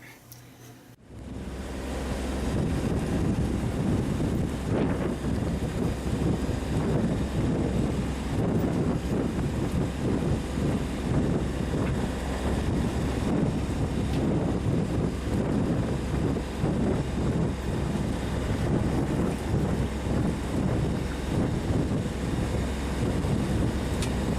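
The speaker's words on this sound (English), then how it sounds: "And there's a storm raging." Wind from Tropical Storm Claudette and heavy waves at sea aboard a boat crossing the Gulf of Mexico, a loud constant roar of wind buffeting with sloshing water that begins abruptly and continues unbroken.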